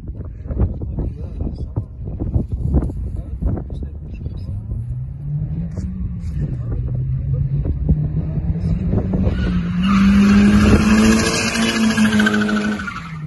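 A Nissan S13 with a CA18DET engine revs and rises in pitch as it drifts, with wind buffeting and scattered voices early on, ending in a loud strained whine from its faulty differential.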